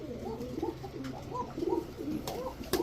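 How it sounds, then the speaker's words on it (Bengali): A male red-necked pigeon, white-bodied with a red neck and tail, coos in repeated low rolling phrases, close and clear, with a few sharp clicks between the calls. "এই হচ্ছে লাল গলা একটা এক চটের চটবান নর কবুতর"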